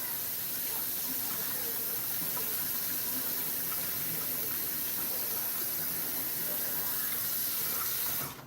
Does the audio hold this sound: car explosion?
no